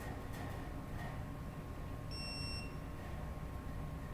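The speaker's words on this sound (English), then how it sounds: "this tool will actually beep and you will have a couple lights begin to light up as we torque this" A digital torque wrench used during an oil change on a 2013 BMW 335i xDrive gives a single short electronic beep midway, clear over a steady low background rumble.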